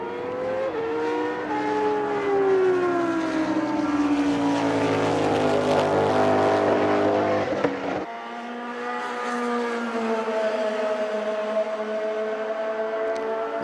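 A Benetton race car and other Group 9 cars scream around the Indianapolis track, engine pitches sweeping up and down as they pass, loud and close, one roar cutting off sharply before another car's note carries on alone.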